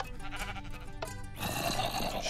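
A Minecraft sheep bleats in a short wavering call, then a denser, louder burst of game noise takes over at close range.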